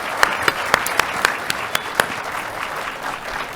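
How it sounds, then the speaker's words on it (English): An audience applauding a speaker at the close of a talk on interest, capitalism and easy money, with a few sharp distinct claps standing out over a softer bed of crowd clapping that fades toward the end. "give him a big round of applause"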